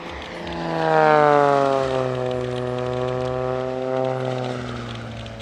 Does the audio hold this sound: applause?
no